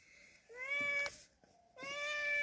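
Cats meow in a village plum garden near Mersin, Turkey: two clear, close, rising meows separated by a short pause.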